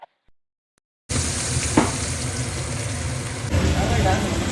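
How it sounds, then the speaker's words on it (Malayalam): Chopped coconut with turmeric and salt fries in a pan for a homestyle kappa biriyani, with a close, dense sizzle starting abruptly after a second of silence and swelling louder partway through. "കുറച്ച് മഞ്ഞപ്പൊടിയും ഇച്ചിരി ഉപ്പും കൂടി ചേർത്ത് നല്ലതുപോലെ ഒന്ന് ഇളക്കി മൊരിയിച്ചെടുക്കുക"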